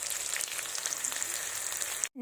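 Cauliflower pieces frying in hot oil for a mixed-vegetable chhachra, a steady close crackling sizzle that runs evenly before cutting off abruptly at the end.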